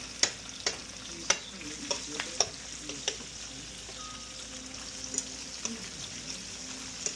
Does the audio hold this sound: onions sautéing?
yes